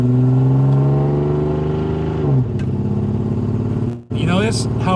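Car engine idling with a misfire from a faulty fuel injector, a loud uneven engine hum that wavers in and out and drops briefly before catching again.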